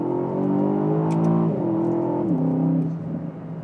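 An Aston Martin DBX engine in sport plus mode accelerates hard, its loud rising drone climbing in pitch and dropping with two gear shifts, recorded from inside the car on a quiet forest road.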